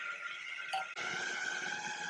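A food processor creaming butter and cream cheese for rugelach cookie dough, a steady whirring motor hum that briefly cuts out and restarts, fairly faint and alone without talk.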